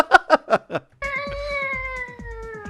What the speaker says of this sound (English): Okay, his kitty can scream.